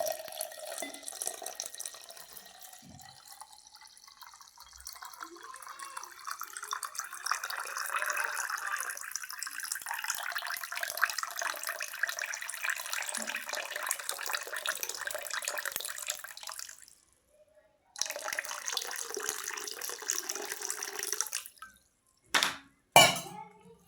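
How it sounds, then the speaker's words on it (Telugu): Water runs steadily into a container for a long stretch, filling it completely, its pitch rising as it fills, then stops briefly before a few short splashes. "సాయంత్రం పూట ఇలా పూర్తిగా వాటర్తో నింపేయాలి"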